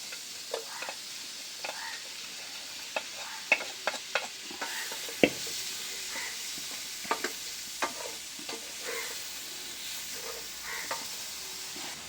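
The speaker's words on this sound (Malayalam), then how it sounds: "ഇനി നമുക്ക് ഇതിലേക്ക് മീനും കൂടെ ഇട്ട് കൊടുക്കാം വറുത്ത് വെച്ചിരിക്കുന്നത്" Fried fish pieces go into a pan of tomato masala and are stirred, a low constant sizzle broken by sharp clicks and knocks of the spoon against the pan.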